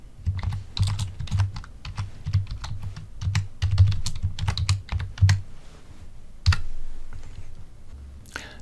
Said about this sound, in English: And I can type my own text.